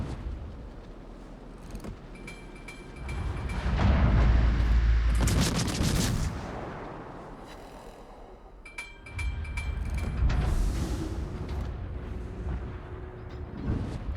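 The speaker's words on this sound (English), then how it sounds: "Now everything is shooting Turpitz" Heavy naval gunfire in World of Warships as ships shoot at the battleship Tirpitz, with deep rolling booms and rumbling salvos swelling in two loud waves and sharp mechanical clatter between.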